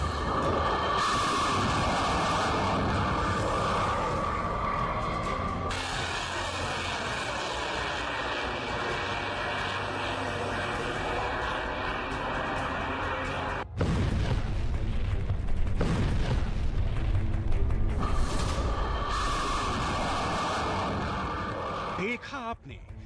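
A missile launch at a military test site, a loud sustained roaring rush that shifts in tone partway through and then gives way to a second broad blast-like roar, with a voice speaking over it.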